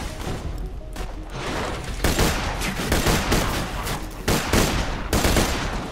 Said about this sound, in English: it shoots burst fire when you zoom in